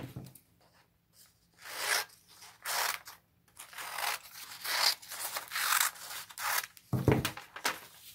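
Scissors cutting through bag material along the fold, a series of crisp snipping and rubbing strokes in steady bursts, close and moderately loud with no talking.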